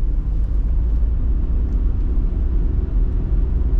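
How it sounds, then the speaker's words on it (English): A pickup truck with a manual transmission rolls along the road, heard from inside the cab as a steady, loud low rumble of road and engine noise with no voices. "This truck rides a lot rougher than the 2015 F-150 and is also a manual, so there's a slight jar with each shift."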